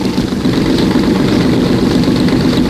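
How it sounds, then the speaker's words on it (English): Overhead valve engines of 1931 Chevrolet race cars roar in a steady, loud, low-pitched drone that holds without a break, close and unaccompanied by talk. "The machine gun roar of the overhead valve engines, hurtling through water and air like lubricated lightning."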